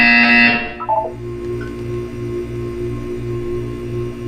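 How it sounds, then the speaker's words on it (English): In a Portal 2 test chamber, a loud electronic buzzer blares for half a second, then drops into a few falling tones, leaving a soft, evenly pulsing hum in the background. "You will hear a buzzer."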